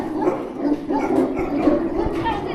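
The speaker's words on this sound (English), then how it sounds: "little puppies." Little puppies, small dogs, yip and bark in short bursts while people talk over them nearby.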